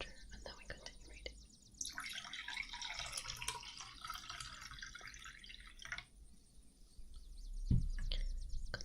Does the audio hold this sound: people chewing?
no